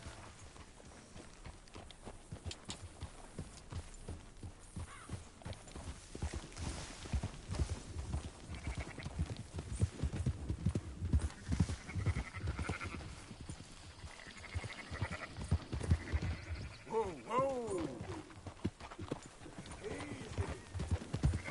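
Horse hooves clip-clopping alongside bleating sheep in a western video game while herding a flock, with steady hoofbeats, scattered animal calls and characters talking over the scene.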